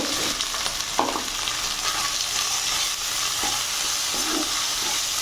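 Duck meat with salt, turmeric and spices fries loudly in a pan, a dense continuous sizzle broken by occasional stirring scrapes and knocks.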